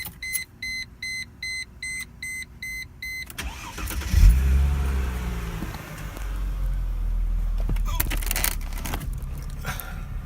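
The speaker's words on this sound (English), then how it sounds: "start the car, and get it running" A car with a check engine light and limp mode fault cranks and starts after a series of repeated dashboard chimes, then settles into a steady, close low idle.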